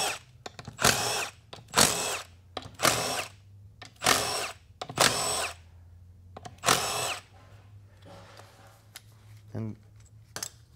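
A power tool undoes 8mm bolts on the accumulator body of a Ford E40D transmission, sounding as six loud, close whirring bursts about a second apart, with someone talking between and over them.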